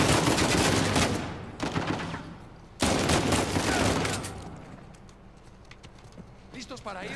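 Rapid bursts of gunfire in Uncharted 4 on PS4 at Italian villas, loud dense volleys in two stretches, then quieter scattered shots with game clatter.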